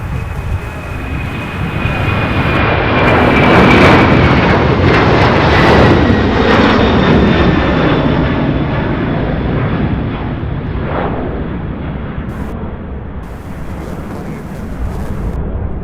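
Large fixed-wing aircraft passing at Louisville International Airport, a loud, continuous jet engine roar that swells, peaks mid-pass and slowly fades with a falling whine.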